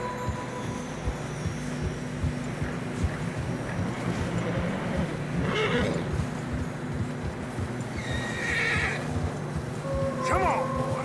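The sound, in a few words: horses struggling through snow in the video game Red Dead Redemption 2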